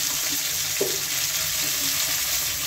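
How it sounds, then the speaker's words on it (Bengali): Pumpkin, pointed gourd and potato pieces frying in a pan, a steady broadband sizzle running throughout with one brief scrape or stir near the start and a fainter one later, no voices. "পুই শাক রান্না করার জন্য আমি কুমড়, কাকরোল, আলু এগুলো নিয়েছি কেটে। এখন এগুলিকে একটু ফ্রাই করে নেব"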